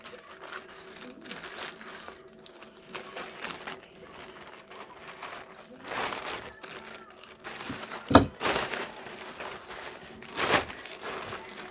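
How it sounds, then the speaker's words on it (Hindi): Scissors cut open parcel packaging close by, with steady crinkling and rustling of plastic broken by occasional louder snips and thuds, and no talking. "मैं कैंची लेकर आया हूँ और अभी मैं इसको काटूँगा।"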